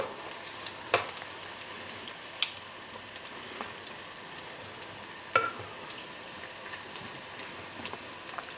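Battered onion rings fry in hot oil with a steady, soft crackling sizzle, turned now and then with a slotted spoon that gives a few brief louder clicks.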